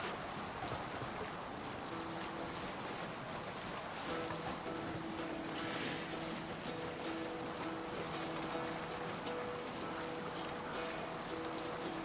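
Wind and rushing sea surround a sailing boat in Assassin's Creed Valhalla, a steady broadband wash of waves and gusts with faint tonal hums underneath and no talk.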